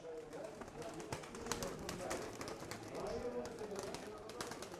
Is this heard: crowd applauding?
no